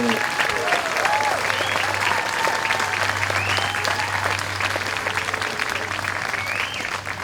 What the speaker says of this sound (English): one more round of applause for our grade 6 class moving on to 7th